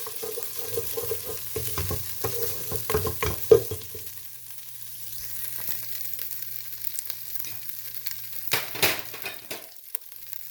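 Chicken with garlic and ginger sizzles and fries steadily in a pan, with scraping stirs and occasional clinks of a utensil against the pot.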